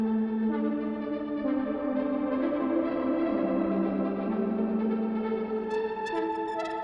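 A house music loop played through Vintage Verb reverb carries on throughout, its sustained chords smeared into a washy, echoing tail, with crisp percussive hits appearing toward the end.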